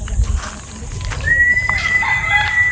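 Chickens clucking nearby with a drawn-out crow partway through, over a low rustling outdoor background.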